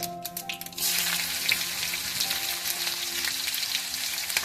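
Mustard seeds, sesame, green chillies, asafoetida and curry leaves hitting hot oil for khandvi tempering, a sudden loud burst of sizzling that then holds as a steady, dense crackle close by.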